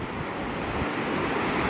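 Ocean waves and wind at a cold beach, a loud continuous wash of surf mixed with blustery wind buffeting the microphone, with no voices.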